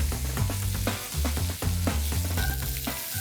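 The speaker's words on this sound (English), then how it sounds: "So all you want here is to brown both sides of the pork belly before you add in the braising liquid" Pork belly browning in a pan before braising gives a loud, close, steady sizzle and fry, with rhythmic bursts of spatter and stirring over the continuous hiss.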